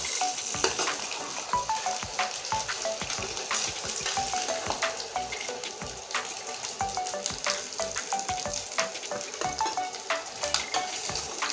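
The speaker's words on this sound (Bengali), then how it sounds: "লবণ হলুদ মাখানো ডিমটা ছেড়ে দিচ্ছি তেলে।" Eggs coated in salt and turmeric frying in hot oil, a dense crackling sizzle with rapid spattering pops running steadily from start to finish.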